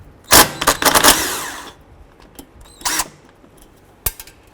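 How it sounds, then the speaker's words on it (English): A 10mm socket on a power tool undoing a brake line clamp on a 2012–17 Toyota Camry, heard as a few loud whirring bursts with quieter clicks and rattles between them, close by. "Using a 10mm socket, we're going to go ahead and undo this clamp here for the brake line."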